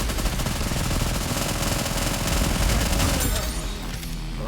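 Rapid, sustained automatic gunfire in a video game, a loud continuous fusillade that rattles on for several seconds before thinning out, with a voice speaking over it.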